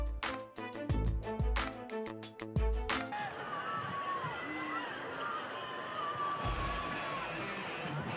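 The Wake Forest student section roars and cheers at a football game, with a busy, shouting crowd throughout. Sharp rhythmic band hits punctuate the opening seconds, and a broadcast voice speaks over the noise.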